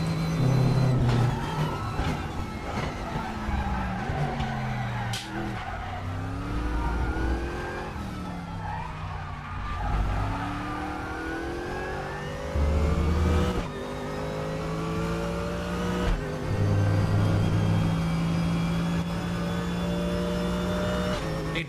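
A race car engine in the RaceRoom racing game, a BMW M4, revs hard and shifts gears, climbing and dropping in pitch through acceleration and braking, loud and continuous with brief tire noise.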